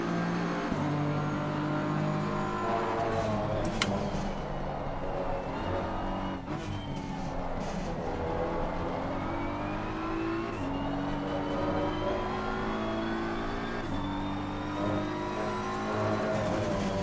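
Race car engine in a racing game at Misano, droning continuously and loudly with rising and falling pitch through upshifts and downshifts, held at steady volume throughout.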